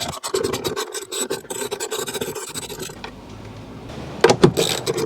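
A 10mm socket ratchets out two bolts holding the brake light housing on a 2007 Toyota Sequoia, giving close, steady raspy scraping and rubbing, with a brief louder clatter near the end.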